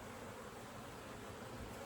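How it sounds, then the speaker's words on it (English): Honeybees swarm around an open hive box, giving a dense, steady buzz that fills the whole short stretch, faint and even. "look at those bees"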